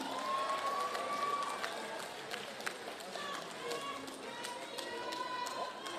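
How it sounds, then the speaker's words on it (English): Crowd applause at an outdoor entertainment stage during a Pacific arts festival, a broad wash of clapping and cheering mixed with whistles and voices, steady and fairly loud throughout. "Huge round of applause."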